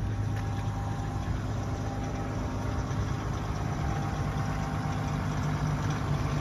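A 2020 Chevrolet Silverado 1500 High Country pickup engine idles steadily while warming up, with a low, even rumble that holds for several seconds, with no talking over it.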